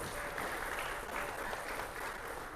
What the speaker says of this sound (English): She deserves another big round of applause.